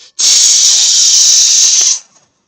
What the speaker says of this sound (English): he was cooking bacon and he was recording the sizzling sound